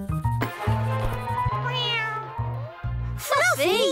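Cartoon cat meows several times in a children's animated show, the cries rising and falling over background music, with characters talking around them.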